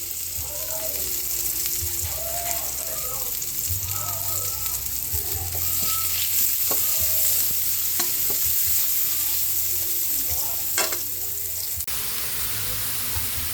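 Onions and meat sautéing in a pan, with a steady close sizzle running throughout and scattered clinks and scrapes of stirring.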